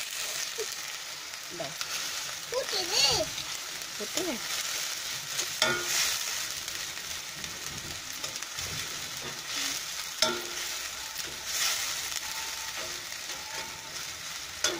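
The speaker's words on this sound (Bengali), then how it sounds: "গুঁড়ো মরিচ দিয়ে দিলাম।" Spices frying after chili powder is added, a steady close sizzle with occasional stirring scrapes and light knocks throughout, no talking.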